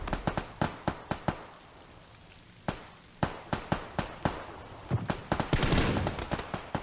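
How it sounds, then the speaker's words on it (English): Steady rain hiss in a video game shooter, sitting beneath loud, rapid bursts of close gunfire that crack sharply and repeatedly throughout, with a dense burst near the end. "it's raining like a motherfucker here"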